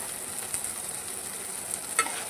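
Onion fries with salt and turmeric in a pan for tomato chutney, giving a close, steady hiss with a couple of brief spatula scrapes, and no speech.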